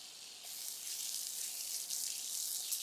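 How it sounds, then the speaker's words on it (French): SVR SPF50+ sunscreen milk crackles as it is applied, a faint steady fizzing of tiny popping bubbles close up, soft and continuous with no talk. "lorsque vous l'appliquez, il y a des petites bulles qui crépitent et qui font du bruit"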